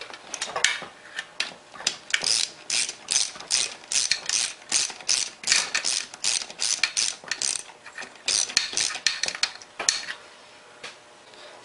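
Ratchet wrench tightening bolts on a Briggs Quantum small engine during a rebuild, a close series of rapid rhythmic clicking bursts with short pauses between strokes, with no talk.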